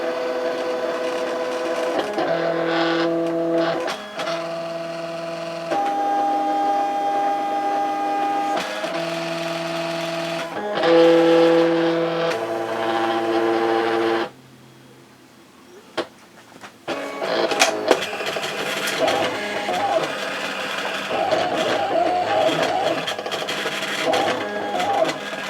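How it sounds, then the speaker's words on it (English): A Silhouette Cameo cutting machine works through printed Christmas labels with steady mechanical whirring in repeated bursts broken by short pauses, alternating motor pitches, then a brief quiet gap before busier clattering movement resumes. "now I'm ready to send it on to my Silhouette so it can cut."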